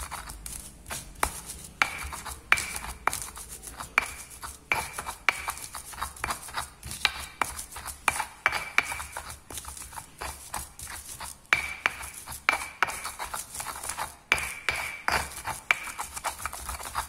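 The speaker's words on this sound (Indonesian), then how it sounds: "sekarang kemirinya kita haluskan juga ya" Candlenuts being ground into a paste for a blood cockle dish, a steady run of scraping, rubbing strokes with sharp clicks, close and fairly quiet, with no talk.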